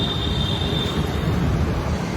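A metro train rumbles along the tracks with a steady low roar and a thin, high wheel squeal running through it, loud and continuous.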